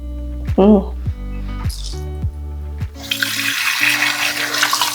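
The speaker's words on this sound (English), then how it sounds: "discard the soapy water that you just used" Soapy water poured out into a sink after washing makeup brushes, a broad splashing wash of sound starting partway through and running steadily to the end, following a stretch of humming with clicks.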